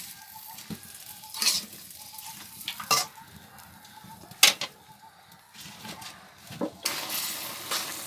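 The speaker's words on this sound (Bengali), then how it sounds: "এখন ভালো করে নাড়াচাড়া দিয়ে দিতেছে আর ঢাকনা দিয়ে ঢেকে দিবে" Koi fish and fresh flat bean curry being stirred in a pot, a low simmering sizzle broken by several sharp scraping clatters of a spatula against the pot, with faint rooster calls in the background.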